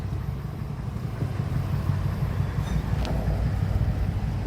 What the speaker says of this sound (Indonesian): Lokomotif menarik lori bermuatan hingga ke jembatan.